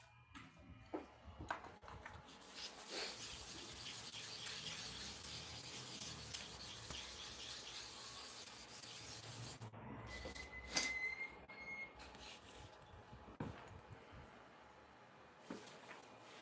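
Steady gritty rubbing as a barber clipper blade is worked back and forth on a sharpening stone, a continuous low scrape with a few faint ticks, close and fairly quiet.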